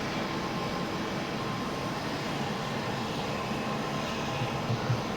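Jet engines of a C-17 Globemaster in Flight Simulator 2020 run at a steady idle, a continuous broad roar and whine that holds level throughout with no talk.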